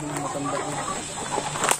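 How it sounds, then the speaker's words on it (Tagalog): Rhode Island Red and native chickens cluck on a farm, their calls faint and scattered beneath steady talk and background noise. "So, marami tayong makikita mga manok dito, no?"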